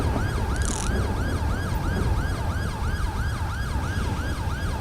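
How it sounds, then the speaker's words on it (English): An ambulance siren wails in a repeating up-and-down cycle in GTA 5 with a British police mod, loud and steady over low rumbling traffic noise, with no talk. "There's our ambulance."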